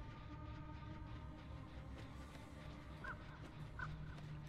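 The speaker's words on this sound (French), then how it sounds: "En plus j'ai un corbeau sur moi." A crow in the horror game Dead by Daylight gives two short, faint caws spaced about a second apart over a steady low rumble of game ambience.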